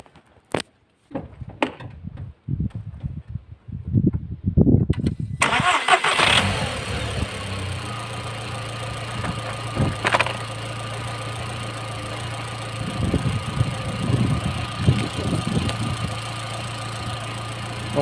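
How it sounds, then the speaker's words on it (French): A car fitted with an E85 ethanol conversion kit cranks briefly and fires up, then settles into a steady, close idle that runs on alone for many seconds. "la voiture démarre tout à fait normalement"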